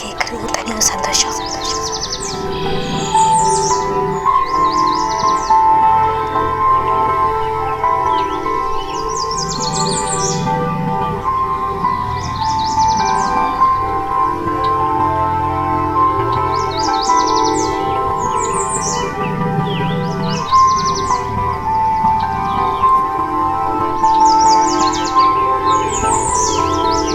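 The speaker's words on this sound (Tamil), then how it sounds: "கண்ணு தெரியலனாலும் நம்மளை சந்தோஷமா வச்சுக்கிற ஒரே விஷயம் நம்மளுடைய பறவை மட்டும்தான்." A pet bird chirps in repeated bright bursts of tweets at steady intervals throughout, loud and close over a droning indoor background.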